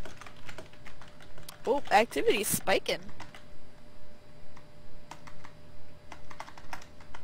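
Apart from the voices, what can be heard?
loud computer keyboard typing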